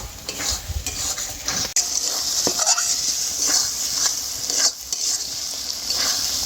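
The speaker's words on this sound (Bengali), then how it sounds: "এইবারে মশলাটা খুব ভালো করে একটু কষিয়ে নেব।" Spice masala with chili and turmeric powder fries in hot oil for potato curry, giving a continuous loud sizzle, with a spoon stirring and scraping the pan now and then.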